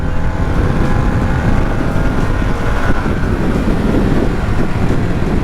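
A stock 2022 Harley-Davidson Sportster S riding on rough roads with only a quarter twist of throttle: loud, constant low rumble mixed with heavy wind buffeting, close and unbroken throughout.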